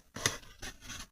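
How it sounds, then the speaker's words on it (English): Scissors snipping cardstock scraps in a papercraft session, two or three close crisp cuts with a soft scraping edge, heard alone without speech. "I just cutting things from behind with scissors"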